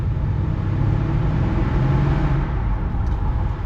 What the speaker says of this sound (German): man hört wirklich wunderbar die Turbos